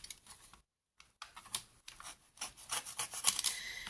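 A cutter knife slices through folded paper during a junk-journal cover craft, giving dry scraping and rasping strokes that build toward the end after a brief silent gap, close and fairly quiet.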